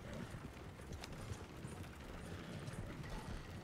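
Horse hooves clip-clop steadily at a walk in the video game Red Dead Redemption 2, with the horse following behind a cargo-carrying rider. The hoofbeats are quiet and continuous under a constant background wash.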